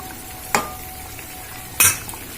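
Ripe chillies frying in a pan, a faint sizzle with two sharp utensil clacks against the pan, close.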